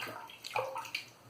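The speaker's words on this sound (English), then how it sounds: "I'm just going to dip it underwater." A synthetic shaving brush is dipped into a tub of water for bowl lathering, giving close gurgling splashes and sloshing with a few brighter drips over about a second.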